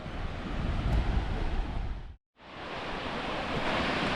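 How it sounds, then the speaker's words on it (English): Sea waves breaking on a beach during saltwater shore fishing make a steady, loud broadband roar of surf. The sound cuts out briefly near the middle, then resumes with the same rushing wash. "just past where them waves are breaking"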